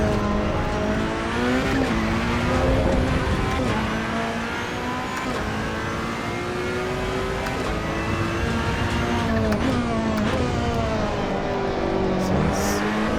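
A Ferrari 488 Challenge Evo in a racing simulation on the Nürburgring, engine note rising and falling through gear changes with tires sliding and squealing through a corner, continuous and fairly loud.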